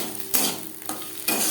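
A mash of elephant foot yam leaves is stirred in a pan over a low flame. Three soft scraping strokes fall about half a second apart over a faint sizzle.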